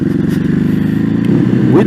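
Ducati Hypermotard 950 SP motorcycle running under way in sport mode, a steady near engine drone with a rising rev toward the end, with a person talking over it.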